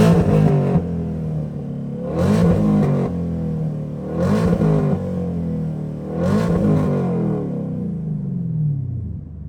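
A Chevrolet Camaro SS V8 engine is revved hard four times in a steady rhythm, each loud, close blip climbing toward the rev limiter before dropping back to a rumbling idle, with no talk over it.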